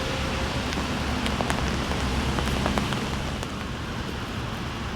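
Steady rain falls in Echo Park, Los Angeles, a dense continuous patter on surfaces with scattered sharper drops, even and moderately loud with no voices.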